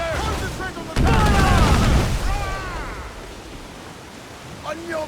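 Ship cannons fire in a naval battle in Assassin's Creed IV Black Flag, with a heavy booming blast followed by rumbling noise and faint shouting crew voices as the sound fades.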